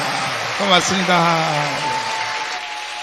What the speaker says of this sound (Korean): 자, 다시 한번 우리 박수로 감사하겠습니다